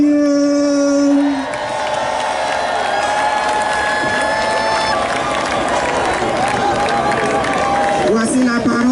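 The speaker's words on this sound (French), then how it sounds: "Acclamons la parole de Dieu." A church congregation at a prayer service sings out an acclamation together, with sustained voices blending into a full, reverberant sound that carries on for several seconds.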